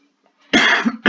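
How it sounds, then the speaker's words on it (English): Two loud, harsh throat-clearing coughs in quick succession, close up, after a brief quiet moment. "Let me clear my throat."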